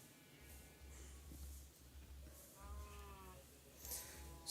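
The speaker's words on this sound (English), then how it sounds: "Our amazing sheep." Sheep in the video game Minecraft bleat faintly a few times, short wavering calls over a low background hum.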